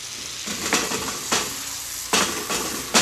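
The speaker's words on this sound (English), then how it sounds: "Just melt down the cheese and the whipping cream" Cheese and whipping cream melting in a pan, a steady soft sizzle with several sharp scraping stirs of a utensil against the pan, close and alone, with no talking.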